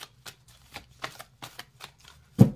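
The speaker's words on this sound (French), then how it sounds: "encore un petit tirage à la coupe, une petite ligne, et on termine ce tirage" Deck of cards shuffled and cut for a card reading, a run of quick papery riffles and flicks close by, ending in a louder slap as the deck is set down.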